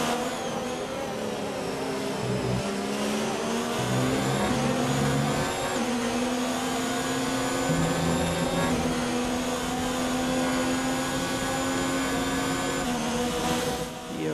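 Formula 1 car engines from the F1 2019 racing game whine steadily at high pitch, several harmonics gliding up and down with gear changes as cars race closely together, loud and continuous throughout.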